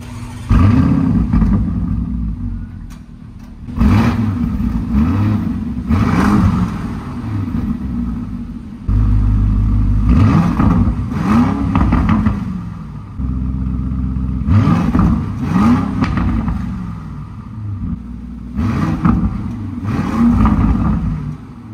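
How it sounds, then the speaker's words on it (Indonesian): A deep V8 engine of a Lamborghini Urus Performante SUV rumbles and revs repeatedly, rising and falling in throaty bursts with a crackling exhaust, close and loud. "coba kalian judge ini suara mesin yang enak atau enggak"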